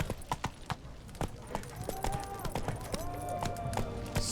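Hooves of Roach, a horse in The Witcher 3 video game, clip-clopping in a quick, uneven rhythm of close, distinct thuds, with faint tonal game sounds in the background.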